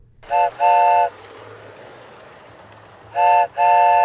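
Toy train on a model train layout, sounding two short pairs of bright horn toots at the start and end with a faint running hum between them, close and loud.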